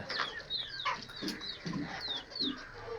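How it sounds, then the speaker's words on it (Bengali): A chicken clucking repeatedly in short bursts, close by, with a noisy background. "মুরগি দেখাচ্ছি দেখছেন মুরগাটা অনেকটা বেশ ঝাড়ার বেরিয়েছে"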